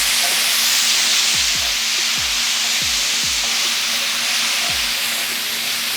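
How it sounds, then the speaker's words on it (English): Vegetables sizzle loudly and continuously in a hot pan, a dense steady frying hiss with occasional low thumps as they are stirred. "Once they start to stick to the pan, I'm gonna add that beer to the mix and give them a stir"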